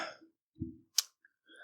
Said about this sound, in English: I'm gonna cut that one burp out just because it was very tiny and embarrassing